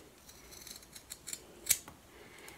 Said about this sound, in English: you're going to just take your scissors and roughly eyeball